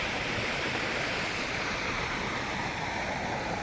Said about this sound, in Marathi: हो कसलं भारी पाणी इथं चालू आहे